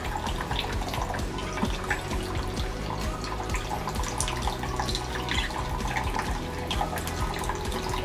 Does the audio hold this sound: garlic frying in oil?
no